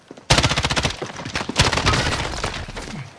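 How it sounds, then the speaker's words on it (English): Rapid automatic gunfire in Call of Duty: Modern Warfare, a loud close burst of dense rattling shots running almost continuously with a brief break midway. "His mate shooting me from behind."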